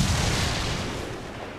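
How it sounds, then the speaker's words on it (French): Ship cannon fire in the Assassin's Creed Black Flag video game during a naval boarding fight, a loud booming barrage with rumbling echoes that slowly decays over a second and a half. "Alors fais taire tes canons."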